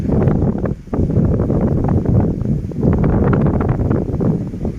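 Strong gusty wind buffets the microphone beside the southern railway line, a loud, rough, continuous rumble that surges and dips in waves with no voices over it.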